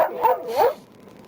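A police dog barks twice in quick loud bursts close by during a traffic stop with a stuck truck, then falls quiet.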